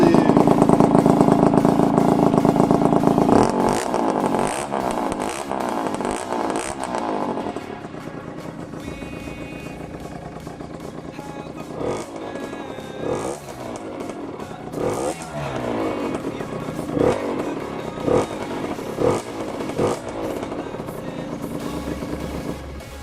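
A carbureted motorcycle engine with a newly replaced spark plug revs loudly at first, then idles and is blipped repeatedly in short bursts, close by.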